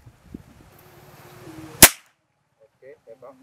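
A single sharp crack from a full-CNC Predator Glory PCP air rifle firing during an accuracy test outdoors, one loud close report after quiet murmuring voices, followed by faint distant sounds.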